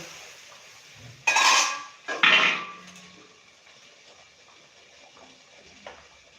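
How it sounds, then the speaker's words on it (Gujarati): A steamer lid is lifted off a pot of cooking semolina dhokla, giving two short, bright metallic clatters about a second apart, followed by a quiet steamy hiss. "હવે આપણે ઢાંકણ ખોલી અને બે મિનિટ આપણે જોઈ લઈએ"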